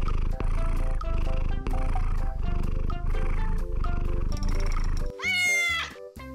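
A cat purrs in rhythmic pulses, close and loud, each breath cycle rumbling for just under a second, before a sharp rising meow breaks in near the end.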